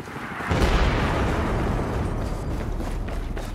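A heavy explosion booms at about half a second in Battlefield 4, followed by a long, loud rumbling roar that stays dense and sustained.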